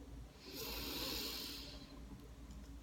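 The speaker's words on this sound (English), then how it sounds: "maybe we can close by just taking a little breath together" A single slow, deep breath is drawn in close to the microphone, a soft airy rush that swells and then fades into quiet.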